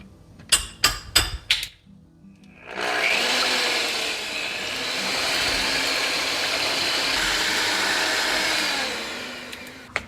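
Three eggs whisked in a bowl for a quick carnivore meal, heard as a loud, steady whirring mixer drone that holds for most of the stretch after a few sharp knocks of shell cracking at the start; no one talks.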